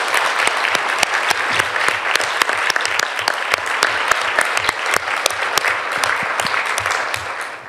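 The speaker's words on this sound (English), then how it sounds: "ask for a big round of applause for our panelists" An audience at an interfaith forum breaks into steady, sustained applause for the panelists, dense clapping from a sizeable crowd that fades slightly at the end.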